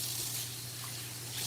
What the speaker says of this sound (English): Giving my little carrots a rinse.